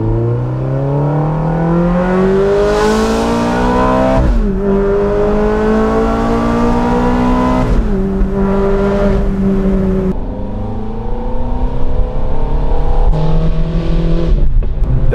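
A high-revving Ferrari 430 V8 engine, revving to 8,500 rpm, roars close by, climbing through gears in repeated rising pulls with brief dips at each shift.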